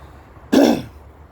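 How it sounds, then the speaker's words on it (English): One short, close throat clearing, a single rough burst in an otherwise quiet room. "Just clear my throat, got a really bad throat this morning"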